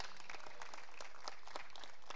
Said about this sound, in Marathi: जोरदार टाळ्या त्यांच्यासाठी देखील.